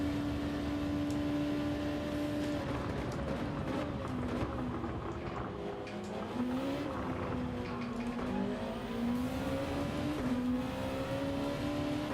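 Race car engines in Gran Turismo 7 at Suzuka; a steady, droning engine whine that shifts pitch up and down through gear changes, with faint tire noise underneath, constant throughout and with no speech.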